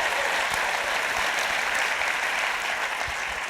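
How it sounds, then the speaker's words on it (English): Audience clapping at a live show, a dense, even wash of applause that holds steady and fairly loud throughout. "Give him a round of applause."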